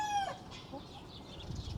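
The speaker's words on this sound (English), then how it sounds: "My Blue Partridge Brahmas, which are a fairly rare breed of chicken." Blue Partridge Brahma chickens, a rare, large, docile breed, with a rooster and hens clucking in a pen: a short, loud call at the start gives way to soft scattered clucks and low background noise.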